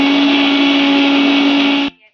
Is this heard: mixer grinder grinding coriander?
yes